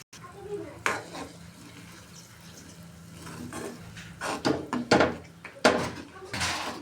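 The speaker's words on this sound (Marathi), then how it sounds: "त्यात आता हे अंड्याचं मिश्रण घालून घ्यायचे आहे." Beaten egg mixture poured into a pan of fried onions for egg bhurji, a soft sizzle under scattered clanks and scrapes of a spoon stirring against the pan that grow busier toward the end.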